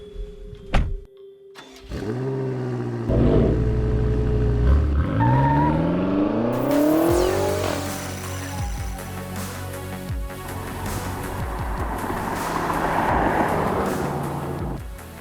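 A BMW X5 M Competition (2020) SUV engine starts, revs up with rising pitch through the gears, then settles into a steady loud roar of driving with road noise.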